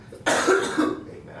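A single harsh, explosive cough bursts out close by, trailing into a short rasping fade.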